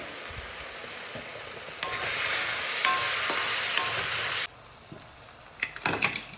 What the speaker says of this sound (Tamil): நல்லா தக்காளி வந்து வதங்கிடணும்.